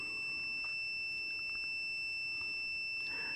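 Steady, continuous electronic tone from a multimeter's continuity tester checking an automotive fuse holds at an even level throughout, close and moderately loud, with no talking.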